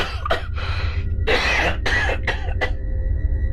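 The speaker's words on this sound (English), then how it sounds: "A voice broken by violent coughs." A man coughs hard in a series of harsh, hacking bursts, several close together and then a last one, with a low hum in the background.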